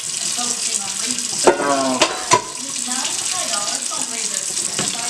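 Water runs steadily from a kitchen tap into a sink while frying gizzards and liver, a continuous splashing hiss with a few sharp knocks, close and fairly loud.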